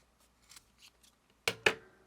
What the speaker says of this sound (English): take some sharp scissors and just cut this at a slight angle